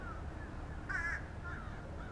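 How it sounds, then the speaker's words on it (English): American crows in cedar trees, one faint caw around the middle, a softer call after it, over quiet outdoor background noise. "Ah, American crows"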